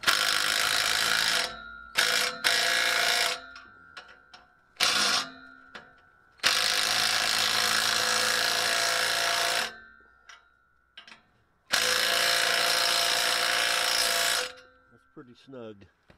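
Ratchet tightening a clamp on a 1967 Buick: close, loud runs of rapid clicking in several bursts, some a few seconds long, separated by short pauses and quieter single clicks.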